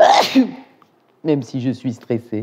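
A single loud sneeze bursts out at the start, followed after a brief pause by someone talking.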